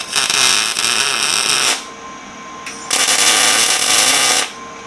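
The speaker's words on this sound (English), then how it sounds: "So let's weld this thing up." Welding on a small cross kart's pipe frame: two long bursts of steady, loud, crackling hiss separated by a quiet pause, with no talk.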